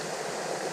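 Water welling up like a spring gives a dense, steady, close gurgling rush over a brief moment, with no voices.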